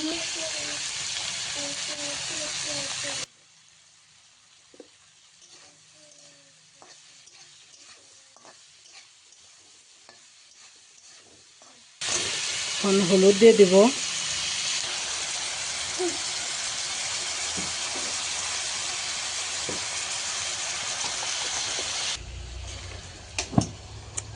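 Food frying in spices in a pan on a home stove, a steady close sizzle that stops for a long stretch and then returns with stirring clatter and scraping, ending with a few sharp knocks.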